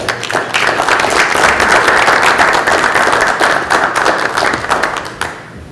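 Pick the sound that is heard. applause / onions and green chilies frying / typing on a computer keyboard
applause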